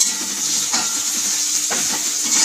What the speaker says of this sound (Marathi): कांदे आलं लसूण पेस्ट टाकणार आहोत